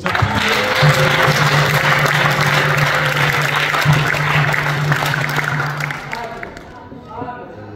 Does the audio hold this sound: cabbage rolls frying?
no